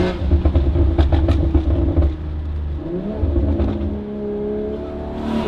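BMW G42 M240i with a B58 engine and Valvetronic Designs exhaust, revving loudly and close by in rough, pulsing bursts, then settling into a sustained drone that rises and falls in pitch.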